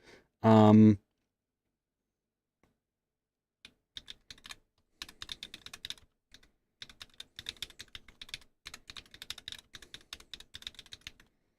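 Typing on a computer keyboard during keyboard modding work: after one short burst of speech and a pause, rapid close key clicks come in irregular runs, sparse at first and then steadier, with brief gaps between them.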